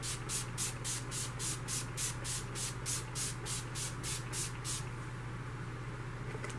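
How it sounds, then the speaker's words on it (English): Urban Decay All Nighter setting spray is misted onto a face in a quick run of about a dozen short, even pumps over a steady low hum, then the spraying stops. "spray my face with my Urban Decay All Nighter Spray"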